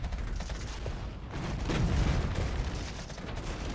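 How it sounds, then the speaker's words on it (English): Artillery fire in the Cold War real-time strategy game Regiments, a continuous rumbling barrage of distant blasts and crackling shots that swells in the middle before easing, with no voices over it. "Our artillery's doing work here."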